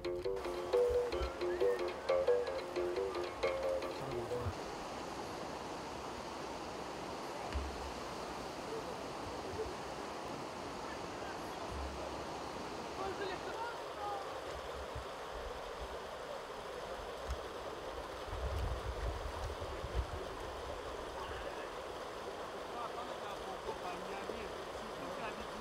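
Flowing water of the Lofoï river, a steady broadband rush with wind-like noise, fairly close and continuous throughout, with some low rumbling and faint voices in the first few seconds.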